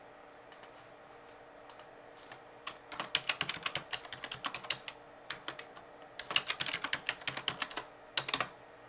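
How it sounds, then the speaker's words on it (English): A password is typed on a computer keyboard as a close run of quick key clicks in uneven bursts, with short pauses between clusters. "Here again we have to type the password for the Active Directory Service Restore mode."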